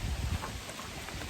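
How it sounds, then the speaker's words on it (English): Steady rain pours down during a rainstorm beside a creek, a dense even hiss heard up close without any voices. "We're currently in a rainstorm."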